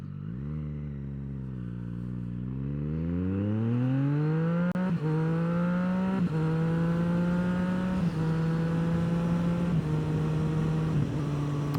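A 2024 Triumph Street Triple motorcycle's three-cylinder engine revs up smoothly from a low note to a higher steady pitch, then holds with a few brief throttle blips, loud and close with no voices.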